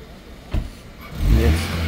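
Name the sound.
car engine starting and revving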